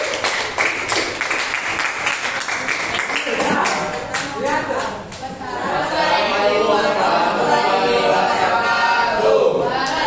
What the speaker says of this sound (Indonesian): silakan jadi tepuk tangan untuk teman-teman